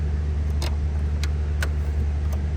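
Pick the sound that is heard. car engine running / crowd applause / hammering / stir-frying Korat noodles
car engine running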